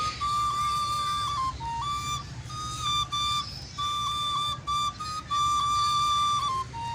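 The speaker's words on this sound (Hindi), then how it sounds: "इस बांसुरी की आवाज़ जो है ना, ये बहुत ही दिल को जो है ना वो छू रही थी" A breathy bamboo flute plays a slow, wavering melody with sustained notes and short pauses, fairly close and alone over a soft background hum.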